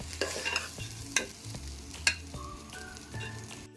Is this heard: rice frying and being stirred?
yes